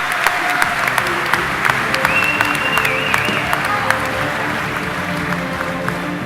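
An audience at a competition event claps in a steady, dense wash of applause, loud and close for the whole stretch, with a faint voice briefly heard over it.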